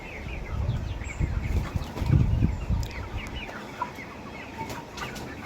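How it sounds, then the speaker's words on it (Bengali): Several tiger breed chickens on a farm cluck close by, busiest in the first few seconds, then quieter scattered clucks and rustling, with no talking. "এই হচ্ছে আমাদের মুরগি"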